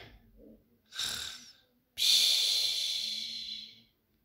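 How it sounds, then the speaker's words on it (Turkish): Snoring drifts up from a downstairs room at night: a couple of breathy, rasping snore-like bursts, the last one long and hissing, separated by near silence and heard alone without talk. "Ay alt kattan bir horlama sesleri geliyor."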